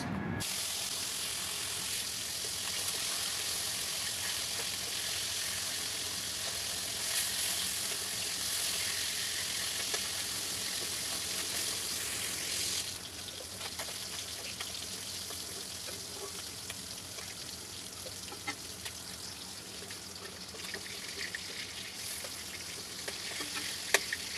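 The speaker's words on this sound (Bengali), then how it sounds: "এখন আমি মাছগুলো ভেজে নিব কই মাছ সাথে শিং মাছ" Native koi and shing fish fry in oil, giving a loud, continuous, close sizzle that eases into a softer, crackling fry about halfway through, with occasional spits and no talking.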